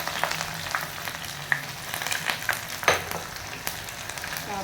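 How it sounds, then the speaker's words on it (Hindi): Finely chopped onions frying in very hot oil for biryani, a close, continuous sizzle and crackle with scattered sharp pops and spits, no voices present. "ये ऑयल बिल्कुल तेज़ गर्म हो गया। अब मैंने इसमें प्याज डाल दिया।"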